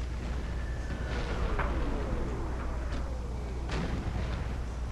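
Cannons fire in an American Civil War video game with the Fort Wagner mod. Several booming shots, some distant, sound over a steady low rumble of battle noise.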